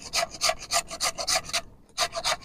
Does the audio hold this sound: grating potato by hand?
yes